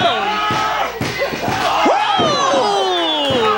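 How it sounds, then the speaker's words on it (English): A loud wrestling crowd at a CWF Mid-Atlantic event roars and yells without a break, with sharp slams and smacks from the ring cutting through the cheering. "This crowd is coming up for the C-Bear."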